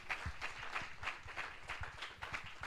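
A church congregation claps for Jesus in quick, even rhythmic applause, soft and slightly distant, lasting a few seconds.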